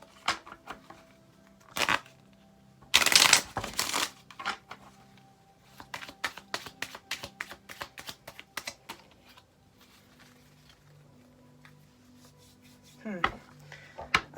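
Tarot cards are shuffled close by in a string of quick, crisp clicks and papery slaps, arriving in uneven bursts with a few louder knocks and brief pauses between them.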